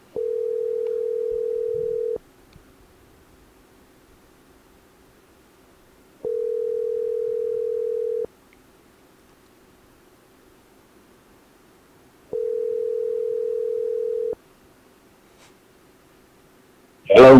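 A telephone's steady ringback tone sounds during a three-way call, repeating three times as evenly spaced two-second beeps with long silent gaps, close and clear, and a brief burst of noise at the end.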